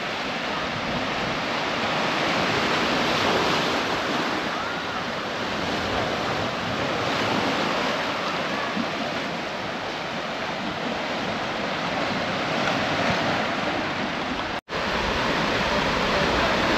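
Continuous roar of surf washing over a small rocky beach cove at Beacon Cove, Torquay, broad and steady with gusty wind noise, briefly cut out near the end.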